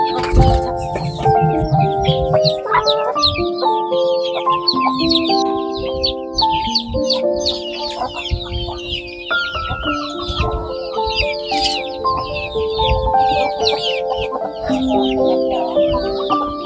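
Native backyard chickens cluck loudly and continuously in the evening, overlapping calls close by with high chirps of small birds scattered through the background.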